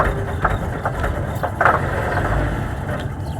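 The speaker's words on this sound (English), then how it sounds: "I wonder if I'll be able to start the engine" A vehicle engine from the game Deponia Doomsday runs with a steady low rumble and idle, marked by a few brief clanks and knocks, moderately loud and with no talk over it.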